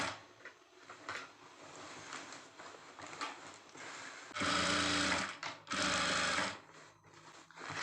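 A sewing machine stitches a lehenga belt in short bursts, its needle chattering closely between quieter handling noises, with two louder sustained runs near the end.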